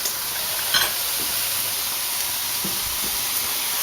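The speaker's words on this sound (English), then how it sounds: "We're going to cover the pork chops. Let that simmer for a while." Covered pork chops simmer in a pan with a constant gentle hiss and faint sizzle, broken by a couple of brief soft clinks, with no talking.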